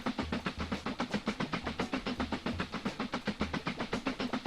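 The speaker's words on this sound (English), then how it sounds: "I know we're doing an empty train right now." An empty train runs on the rails in the railway-building game Mashinky. It gives off a steady, even clickety-clack that keeps repeating under a soft hiss, close and moderately loud.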